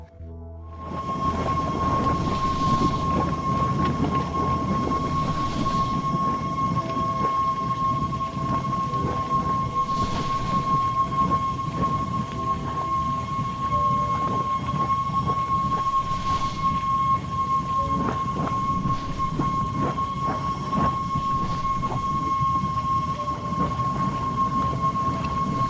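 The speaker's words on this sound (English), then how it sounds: "It would be interesting to hear the deafening whistle as these spectacular geysers shoot out from under the icy crust." A simulated roaring whistle of geysers on Enceladus bursting out through the moon's icy crust, heard as a dense, continuous rumbling wash with a steady high whistle tone above it, loud and unbroken for the whole duration.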